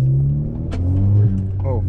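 Audi pulling away under throttle after a throttle controller install, a short surge of engine rumble with revs rising, heard close from inside the cabin while a person speaks over it.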